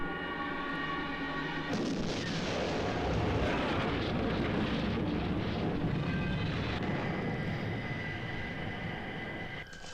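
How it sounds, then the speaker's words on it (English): A model explosion special effect: a sudden loud rumbling blast erupts and sustains as a dense, roaring wash of noise for several seconds before easing slightly. "However, note the tension and explosion."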